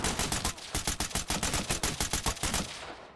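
Rapid automatic gunfire in the tactical shooter Ready Or Not, a dense string of about two dozen loud close shots in an even fast rhythm, with no voices over it.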